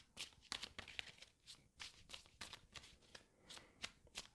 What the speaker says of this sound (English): Okay, and the last card. Let me shuffle more.